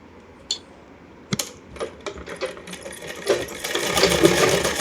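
Sewing machine stitching the back seam of a salwar, starting with a few isolated clicks and taps, then building into a rapid whirring stitch run that grows louder toward the end, close by with no speech.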